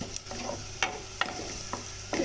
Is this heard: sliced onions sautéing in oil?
yes